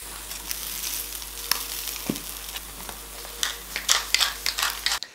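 Beef patties frying in a pan without oil, a crackling sizzle with sharper spits and pops that grow busier toward the end, no talking.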